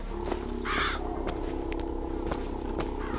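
A raven in the video game Bioshock Infinite gives a single harsh caw early on, over a steady background hum and occasional faint clicks.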